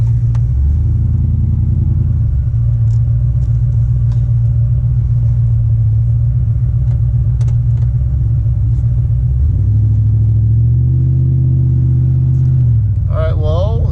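A Chevrolet Silverado with a swapped 6.0 engine idles with a deep, steady rumble, then pulls away in first gear as the low engine note rises and swells, close and loud.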